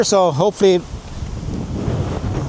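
Someone speaks briefly, then gusty wind blowing across a field at harvest rushes across the microphone in a low, continuous roar.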